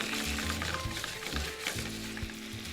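Cherry tomatoes and red pepper flakes cooking in a pan make a steady, close sizzle with faint bubbling pops, continuous and fairly quiet, while a low voice hums briefly underneath.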